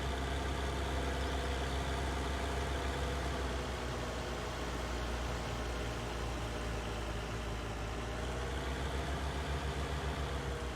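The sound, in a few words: tractor engine in Farming Simulator 19 video game, big T8 tractor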